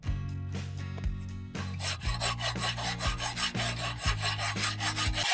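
A metal strip made from a chain is ground on a high-speed spinning wheel, giving a loud, close, rasping grind with repeated pulses as the piece is pressed and lifted, no talking.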